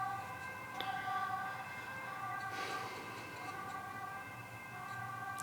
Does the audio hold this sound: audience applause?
no